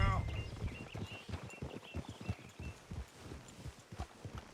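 Hooves clop in a loose walking rhythm in Red Dead Redemption 2, fairly close, with a voice speaking briefly at the start.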